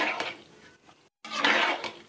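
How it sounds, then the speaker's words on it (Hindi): A spoon stirring a chickpea and lentil masala mixture in a pot: short scraping, clinking strokes, a brief pause, then another burst of stirring, close and moderately quiet. "उसको मिक्स कर देते हैं अच्छे तरीके से।"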